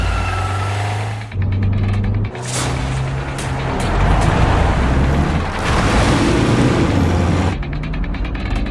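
A car driving through traffic in a Hindi audio drama, a steady engine rumble with passing vehicle noise and some mechanical rattling, continuous and fairly loud, with a sustained low hum running through most of it.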